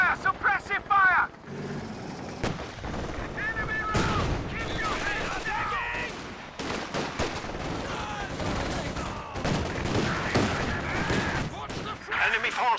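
Battle gunfire from the video game Company of Heroes 2, dense bursts of machine-gun and rifle fire with booms and vehicle rumble, loud and continuous, with in-game voices shouting over it.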